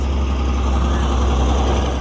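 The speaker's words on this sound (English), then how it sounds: "There's a tractor passing because we're kind of in the middle of a field." A tractor passes beside a field at a radio-controlled car club in Fife, Scotland, giving a loud, steady low engine rumble and drone that holds constant throughout, with no voices.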